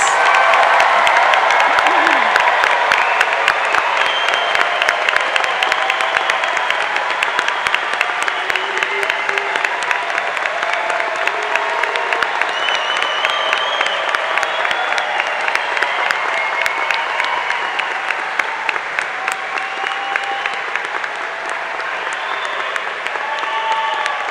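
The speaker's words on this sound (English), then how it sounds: "Let's give a big round of applause to all of our graduates." Sustained applause from a large audience at a spring graduate master's commencement ceremony, dense steady clapping filling the hall for about twenty-four seconds and easing slightly toward the end.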